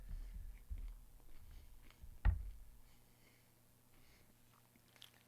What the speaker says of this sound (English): They can probably hear me chewing.